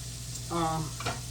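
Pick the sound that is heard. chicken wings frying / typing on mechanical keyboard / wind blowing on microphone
chicken wings frying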